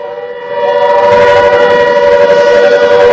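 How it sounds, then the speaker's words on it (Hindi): A loud warning siren in Barmer, India, wails steadily during a ceasefire violation with drones sighted, its sustained tone swelling up after a quieter start and holding strong. "सायरन बजना शुरू हो गया है"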